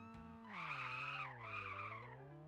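A Unity game car skidding at low top speed with high throttle, a smooth synthetic tire squeal rising and bending in pitch over a couple of seconds, clear and alone.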